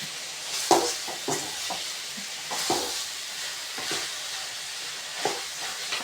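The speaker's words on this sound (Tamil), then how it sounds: "நல்லா கிளறி நல்லா வதங்க விடுங்க." Vegetables for green brinjal thokku kulambu sizzle steadily in a hot pan while a spoon scrapes and stirs at irregular intervals, clattering against the metal.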